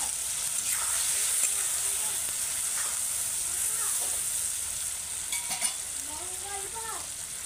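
Fish oil sizzles in a pan as a steady, moderately quiet frying hiss with light crackle throughout, while a voice murmurs faintly in the background.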